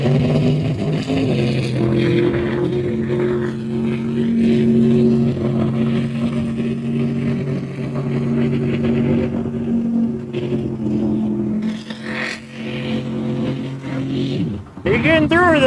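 A loud mud racing truck engine, running poorly, drones steadily with a deep, rough hum, rising and dipping as it labors, then revving sharply near the end, with voices in the background, at a mud race in Orangeburg, South Carolina.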